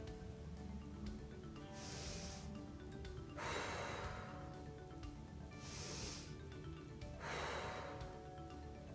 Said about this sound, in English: you're going to inhale through your nose, inflate your belly, and exhale through your mouth and deflate your belly